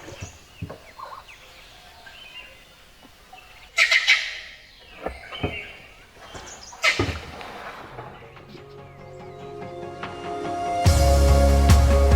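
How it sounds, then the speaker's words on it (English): Harsh, barking alarm calls from a langur monkey ring out intermittently outdoors, moderately distant, amid rustling and other forest sounds. "That's the langur. Just making an alarm call."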